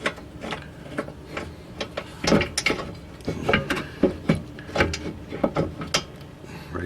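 Mechanical clicks and knocks come from a rear brake caliper bolt on a 2008 Saturn Vue being pushed and seating into place, several sharp close taps in an uneven sequence over a faint background.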